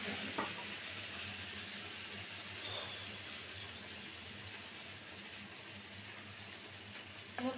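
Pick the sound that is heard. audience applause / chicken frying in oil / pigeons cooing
chicken frying in oil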